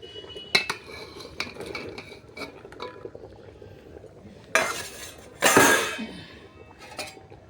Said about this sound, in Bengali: আমি এখন এই রাঙালু শিম এগুলো সব দিয়ে দেবো